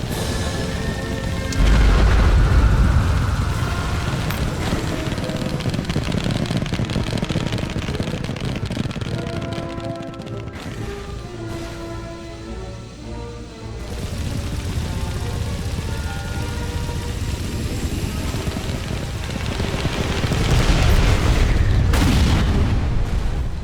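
Bombs explode near a destroyer in the Roblox game Space Wars, a loud, continuous roaring rumble with heavy deep booms at the start and again near the end, and game tones ringing through the middle.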